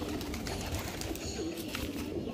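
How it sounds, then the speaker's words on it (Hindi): Pigeons cooing at a pigeon sale in Lucknow, soft low rolling coos repeating under steady background noise, moderately close, with no speech. "और सब उड़ने वाला कबूतर है, रिजल्टेड कबूतर"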